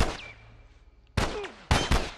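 Gunfire in the video game The Last of Us: two sharp, booming shots about half a second apart, loud and close, after a brief quieter stretch.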